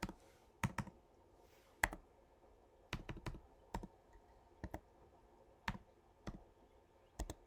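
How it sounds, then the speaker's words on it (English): Library card number being typed on a computer keyboard: a sparse, irregular series of sharp key clicks, close and clear against a quiet room. "Then you're going to type in your library card number."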